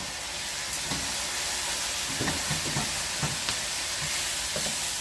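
Beef and its cooking juices stir-fried in a wok for chow mein, a steady loud sizzle with scraping stir strokes and clanks throughout, no talking.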